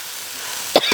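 A person coughs from chili fumes while chilies are fried in a kitchen karahi: two short, sharp coughs close together near the end, loud and near over a faint background hiss.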